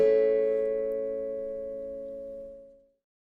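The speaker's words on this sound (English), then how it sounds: "he creates an artificial harmonic chord by hitting the fingerboard" A guitar artificial harmonic chord, struck by hitting the fretboard obliquely, rings out once as a bright, bell-like sustained chord that slowly fades over about three seconds, alone and close.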